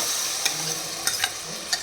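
Turmeric powder and red chili powder being stirred into hot oil give a steady sizzle, broken by a few sharp utensil clinks against the pan.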